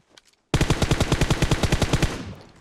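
Automatic rifle fire in PUBG Mobile on Erangel, a loud close burst of about fifteen rapid evenly spaced shots after a brief faint lead-in, ending in a short echoing tail.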